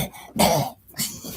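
A dog coughs, a couple of rough throat-clearing hacks close by, with short pauses between them and no talking.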